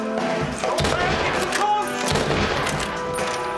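Gunfire in Red Dead Redemption, a rapid run of overlapping shots crackling across the whole clip, with a voice speaking over it.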